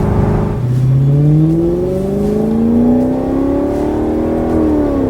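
A 2018 Maserati engine revving under acceleration: a loud, close engine note whose pitch sweeps smoothly upward over several seconds, with no talking.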